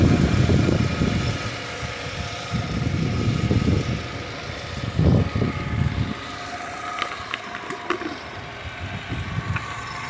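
A 2006 Nissan Altima engine idles under the open hood with a steady low rumble that swells and sags in uneven surges, a few sharp clicks and knocks rising near the end.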